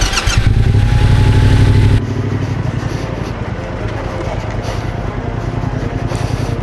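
A motorcycle being bump-started in second gear by releasing the clutch while rolling downhill, the engine catching and running loud and close with a steady rumble, dropping slightly after a couple of seconds.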